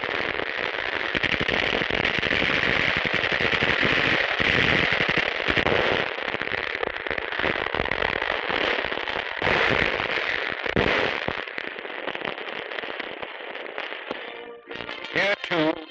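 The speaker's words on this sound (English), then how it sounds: "Yanks and Australians blast the enemy's last foothold on the island." Dense, continuous bursts of gunfire and explosions from a WW2 battle on New Guinea, loud and rattling under newsreel narration.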